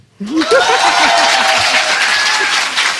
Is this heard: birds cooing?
no